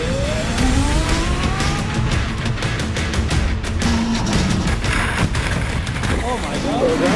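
Car number 67 tears up the Pikes Peak International Hill Climb mountain road, its engine snarling loud and close and rising and falling through gear changes, with tire squeal and voices over the top.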